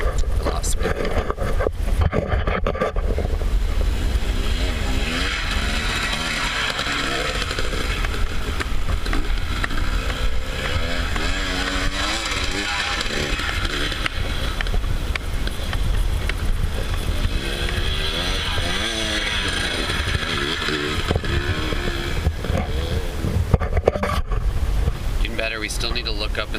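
A dirt bike rides through sand turns on a training track, its engine droning steadily and rising and falling under heavy wind buffeting on the microphone for the whole stretch.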